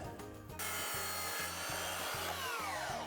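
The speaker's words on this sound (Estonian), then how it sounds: "see saag lõikab natuke nagu piki puidukiudu, nagu pool viltu" A hand saw cuts wood at a slanted angle partly along the grain, producing rhythmic back-and-forth rasping strokes, about six evenly spaced, close and clear with no talk.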